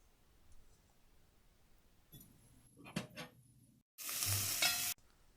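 Ivy gourd curry being stirred in a pan, soft scraping at first, then a brief clatter and a loud burst of sizzling frying near the end; no talking.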